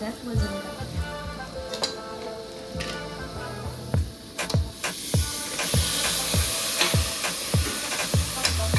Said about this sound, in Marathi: मसाले थोडेसे परतून घ्यायचे